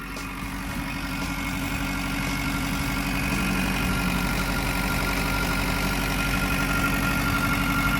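A 4-ton Caterpillar 304CCR mini excavator's diesel engine idles steadily and close by, a low rumbling drone with constant mechanical vibration and no pauses.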